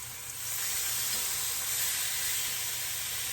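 A steak searing in a hot pan, a loud steady hiss that swells after a moment and holds constant, close and alone.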